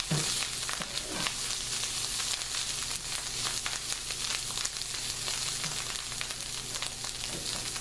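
Mushrooms and onions sizzle steadily in a hot pan, a dense continuous frying crackle with occasional soft stirring scrapes, close and even throughout with no voices.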